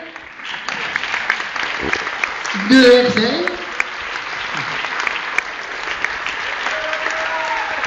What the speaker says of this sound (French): on applaudit les frères Fricadel